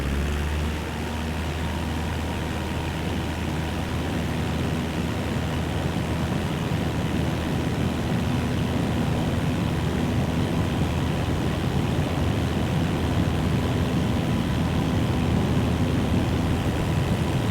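Aircraft engine at full throttle in Microsoft Flight Simulator 2024, a steady, loud, unbroken roar with a constant low drone that holds through the whole stretch without any break.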